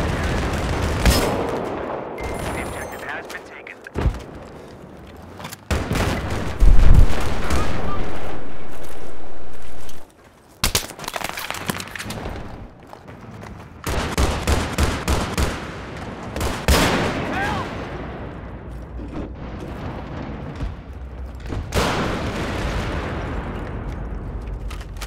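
Rapid gunfire and heavy tank cannon blasts in a multiplayer video game, loud bursts and repeated shots filling the scene while players talk over the action.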